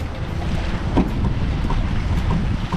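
Sailboat under sail with the motors cut, moving through about 15 knots of apparent wind on the water between Brisbane and Redland City Marina; steady loud wind rush and water wash fill the whole stretch with no talking.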